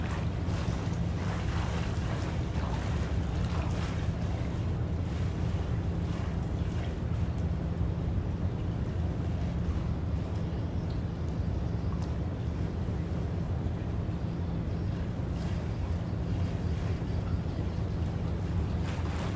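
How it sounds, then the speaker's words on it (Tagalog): Strong wind with fast rain roars continuously against the microphone, a dense, low rumbling buffet with no break, likely near open water. "Sobrang hangin."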